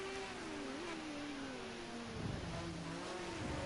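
Ford Sierra race car in Project Cars, its engine droning steadily with a rising and falling pitch as it races, a second rumble swelling briefly near the end.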